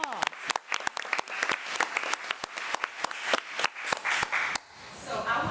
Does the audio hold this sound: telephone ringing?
no